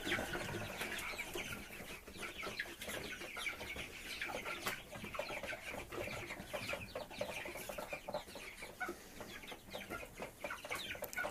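Pastured chickens clucking and pecking while eating biochar and compost, a dense, constant chorus of soft clucks and scratchy pecking at close range, with no talking.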